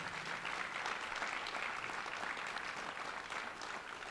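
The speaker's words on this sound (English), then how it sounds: "About one more round of applause for Jonathan Letta." A crowd at a Hall of Fame induction ceremony applauds an inductee, sustained mid-distance clapping that holds steady for about four seconds without talk.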